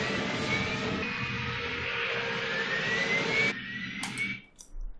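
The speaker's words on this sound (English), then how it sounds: "I play this crashing sound." A game helicopter roars in a crash effect in Unreal Engine, a loud, sustained engine whine with a rising tone that cuts off abruptly near the end, followed by brief sharp bursts.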